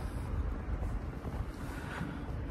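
Steady cold wind blows hard against the microphone, a continuous low buffeting roar with no voices.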